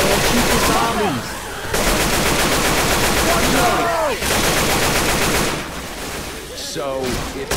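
Rapid automatic gunfire in the Left 4 Dead 2 video game comes in loud, dense bursts with short pauses between them, and shrieking zombie cries rise over the shooting.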